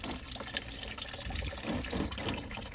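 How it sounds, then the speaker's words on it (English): Coolant water drains out of a 2001 Mercedes E320 engine in a continuous splashing, trickling flow with a broad wash of noise, steady and close throughout, with no talking. "There's still water all coming out."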